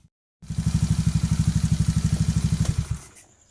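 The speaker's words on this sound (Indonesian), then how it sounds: "kita hidupkan mesin motor ini, didiamkan kisaran 10-15 menitan" A Honda Beat-type injection scooter engine idles close by after a brief silence, a steady rapid chugging pulse that cuts off near the end.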